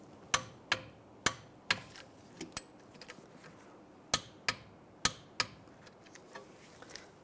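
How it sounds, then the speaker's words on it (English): Brake bolts on a 2006-2009 Mercedes-Benz E350's rear brakes are tightened with a torque wrench, sharp metallic clicks in an irregular series, a few louder and several faint, in a quiet workspace. "I'll torque these bolts to 20 foot-pounds."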